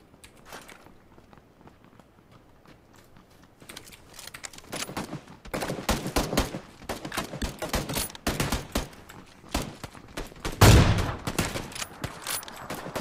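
Bursts of heavy gunfire from a big gun in a shooter video game, quiet at first and then building into loud, rapid volleys with a sharp, booming peak near the end.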